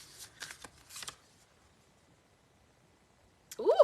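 Tarot cards are shuffled in short riffled bursts, three quick rustles near the start, then a pause, then a louder close flutter as a card is drawn.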